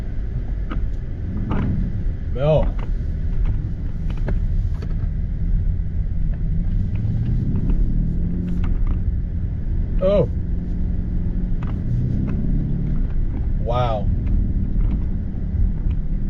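A 2023 BMW 760i xDrive with quad tip exhausts rumbles and builds under acceleration, a deep steady engine growl heard from the cabin, with brief excited exclamations from a person at intervals.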